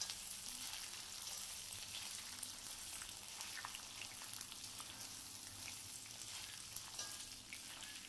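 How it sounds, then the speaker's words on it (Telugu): Ginger frying in a pan on the stove while making ginger chutney, a steady bright sizzle of hot oil that holds for the whole stretch with small crackles and pops scattered through it, with no voices. "అల్లం కూడా వేసుకుని బాగా పచ్చివాసన పోయేంత వరకు వేయించుకోవాలి"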